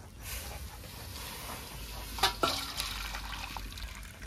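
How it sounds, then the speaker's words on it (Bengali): A pot of hot water lifted off a kitchen stove: a couple of sharp metallic clanks in the middle, set against a steady low hiss of heat and faint bubbling. "জলটা গরম হয়ে গেছে, এবার নামিয়ে নেব।"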